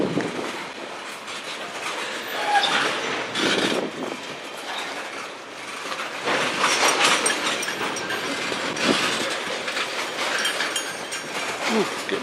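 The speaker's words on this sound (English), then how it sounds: "Great, we got one of the stopper trains." A CN freight train rolls past close by on the Strathroy Subdivision, with a continuous loud rumble of rail cars and rhythmic clickety-clack of wheels over the joints.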